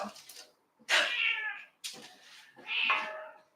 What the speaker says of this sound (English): That's why the cat is screaming.